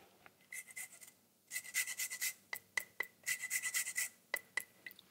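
A rasp grating lime zest, heard as quick repeated scraping strokes in uneven bursts with brief pauses, close and crisp, no talking.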